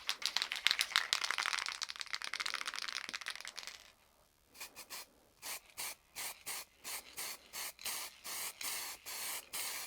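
Acid etch primer is sprayed from a can onto a Suzuki DRZ400SM motorcycle frame: a long, close, continuous hiss, then a brief pause, then a run of short, rhythmic spray bursts.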